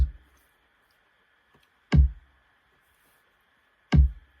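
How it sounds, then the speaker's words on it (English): Three deep, punchy kick drum hits, evenly spaced about two seconds apart, each a short thump with a quick decay into near silence. "so this is my boom kick"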